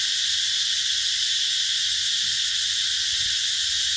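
Cicadas drone in summer among mango orchards and garden trees in the Mỹ Luông eco-tourism area, a dense, continuous high-pitched buzzing chorus that holds steady and loud throughout, with no voices.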